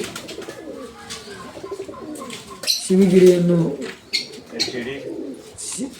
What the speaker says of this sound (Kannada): ಚೆನ್ನಾಗಿ ಕುಣಿಯುವ ಪಾರಿವಾಳಗಳು